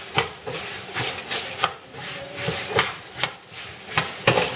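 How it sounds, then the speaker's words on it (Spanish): Rice stirred and toasted in a hot frying pan, a utensil scraping and clacking against the pan in quick uneven strokes over a steady low sizzle, close up with no talking. "Lo tienen que estar moviendo porque si no el arroz también se quema por un solo lado"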